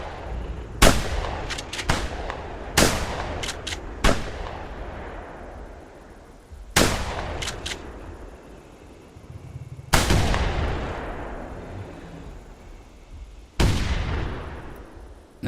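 Rifle shots in theHunter Primal, with a 700 rifle used against a T-Rex: sharp, loud cracks with long booming echo tails, fired singly and in quick pairs at irregular intervals.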